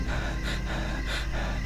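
Rhythmic, loud breathy gasps of a man panting hard and out of breath, about three heaving breaths in under two seconds, close and alone with no talk.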